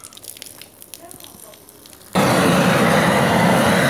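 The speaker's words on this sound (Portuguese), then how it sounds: "Pra gente passar fogo no bicho." Fire blasts onto the skin of a farm-raised pig to singe it, a sudden loud roaring rush of flame that cuts in after quiet rural background noise and then holds steady.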